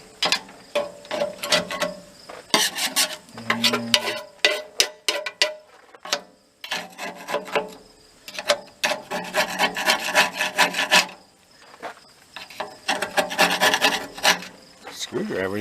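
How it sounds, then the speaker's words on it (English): A wire brush scrubs the door of an outdoor furnace in rapid back-and-forth scraping strokes, loud and close, coming in bursts separated by brief pauses. "I'm gonna get a wire brush. Clean all this up."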